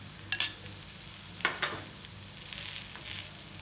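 Chana dal vadas cooking in a little oil on a tawa, with a faint steady sizzle beneath a few soft scraping clinks of a spoon pressing them.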